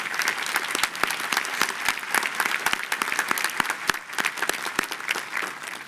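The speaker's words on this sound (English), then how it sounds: "we owe Lucille a really great round of applause for all she's done for us the last 5 years" A graduate commencement crowd applauds a departing leader for five years of service: steady, dense clapping throughout, with individual sharp claps standing out near the front against a wash of hands further back.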